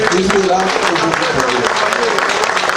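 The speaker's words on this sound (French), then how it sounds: "Applaudissez pour vous-même." Steady, loud audience applause fills the whole stretch, a dense crowd clapping continuously with a few voices mixed in.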